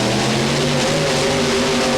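A pulling tractor called Mini Breaker, powered by a rebuilt Keith Black engine, roars at full power during a 1995 European tractor pulling event at Ahoy Rotterdam, a dense, loud, unbroken engine drone with strong low harmonics.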